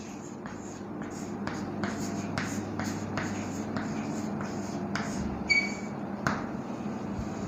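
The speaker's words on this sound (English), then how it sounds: "let me write one sentence here" Marker or chalk strokes on a board during an English lesson, a steady run of short scratchy writing strokes close by with faint room noise beneath.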